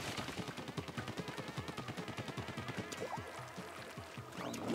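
A Splatoon ink gun fires in a rapid, steady stream of wet splattering shots. The shots repeat evenly and fairly loud, and the stream runs almost continuously.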